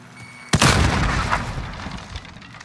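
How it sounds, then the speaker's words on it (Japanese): Grenade blast in Call of Duty: Modern Warfare, one sharp loud boom followed by a long rumbling, debris-filled decay that fades over the next two seconds. "グレネードを使う。"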